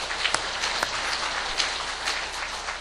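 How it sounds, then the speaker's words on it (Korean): A church congregation claps in thanks during a service, a steady, rain-like patter of many hands that holds at an even level throughout, with no speech. "우리 교육부를 위해서 감사의 박수 드리겠습니다."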